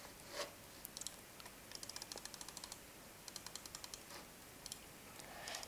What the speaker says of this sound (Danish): hvis jeg klikker på min mus, når jeg er i PvP.